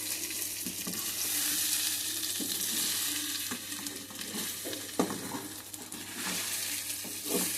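Boiled taro roots are stirred in a cooking pan over a loud, constant sizzle, with occasional scraping clinks of the spoon against the pan up close and no voices.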